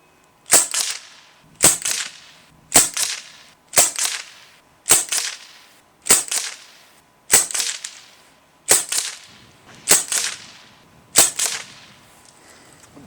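A Sig Sauer Virtus .22 caliber semi-auto PCP air rifle firing pellets at a 25-yard target, ten sharp, snappy cracks at roughly one-second intervals, each with a short decaying tail, loud and close with no talking.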